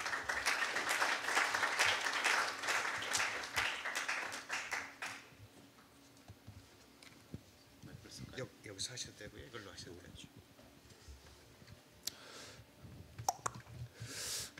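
Audience applause welcoming a keynote speaker at the IEEE ICBC conference: dense clapping for about five seconds, then fading into scattered claps and room noise with a few sharp taps near the end.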